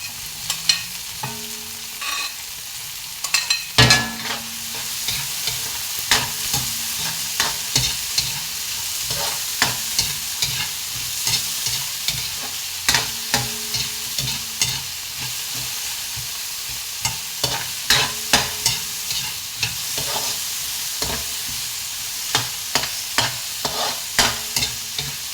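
Sliced onions stir-fried in a hot pan for Filipino ginisa na ampalaya, a steady sizzle broken by repeated scraping and tapping of a spatula, close up and with no voices.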